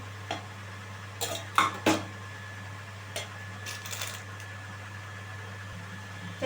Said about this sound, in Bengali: এবার সমস্ত মশলা আমি খুব ভালোভাবে একটু মিশিয়ে নেব।